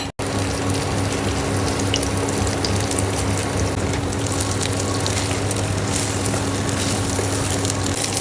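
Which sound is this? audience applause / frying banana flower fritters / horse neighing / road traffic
frying banana flower fritters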